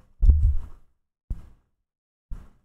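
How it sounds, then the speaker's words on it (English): An arm joint popping right next to the microphone makes three dull, low thumps: a longer one first, then two shorter ones about a second apart, much like a heartbeat in an otherwise silent room. "Could you hear the arm pop?"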